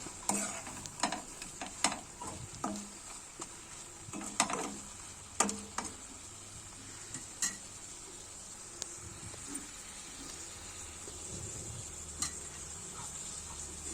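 A spoon stirs prawn curry in a pan, giving irregular scraping and knocking strokes over a soft background sizzle, close and fairly quiet.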